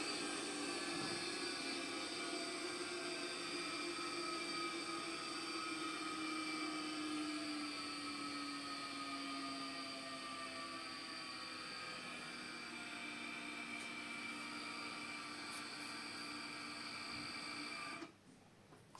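A Shimge CA200 backup generator runs with a steady, close mechanical drone whose pitch sags gradually as the revs drop, then the engine cuts out abruptly near the end.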